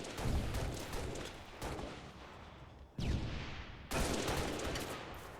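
Grenade blasts in Halo, several loud booming bursts arriving a second or two apart, each with a sharp onset and rumbling tail, no talking over them.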